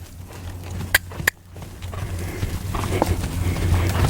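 A horse at a steady, rhythmic trot during a pre-purchase exam, with a couple of sharp hoof strikes early on, then softer footfalls against outdoor background noise.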